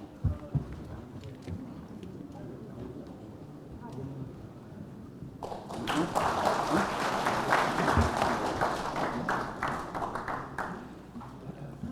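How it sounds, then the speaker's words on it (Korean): An audience claps to welcome a speaker, starting as a quieter patter under talk, then swelling into loud, dense applause for the second half. "큰 박수 부탁드리겠습니다."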